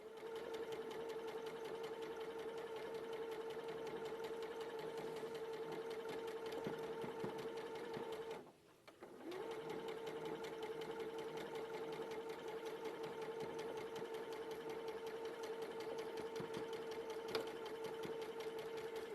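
Sewing machine stitching a quarter-inch seam along a curve: a steady, continuous mechanical whir with a humming drone, pausing briefly midway before running on at an even pace.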